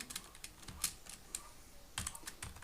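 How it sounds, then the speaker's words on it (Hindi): Fingers type a command on a computer keyboard in quick, uneven bursts of close, crisp key clicks, with a short pause between the two bursts. "हम यहाँ से एक कमांड टाइप करेंगे अपने टेक्स्ट बॉक्स में।"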